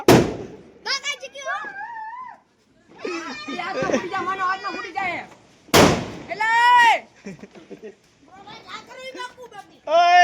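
Two sharp Diwali firecracker bangs burst out, one at the start and one midway, amid excited children's voices and chatter.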